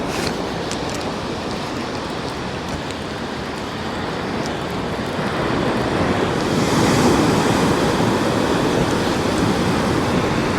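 Surf rolls and breaks continuously on a North East Scotland beach, a loud wash of broadband noise swelling midway, with wind buffeting the microphone and no talking.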